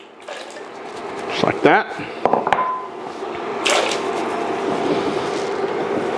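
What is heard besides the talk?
cubed russet potatoes dropped into soup pot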